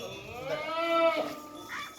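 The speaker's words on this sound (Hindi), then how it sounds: "ये देखो ये अच्छा बकरा है, ये भी बड़ा बकरा है।" A Rajanpuri goat bleats in a long, wavering cry near the microphone, with a second shorter bleat after it, over a quiet background at a livestock market.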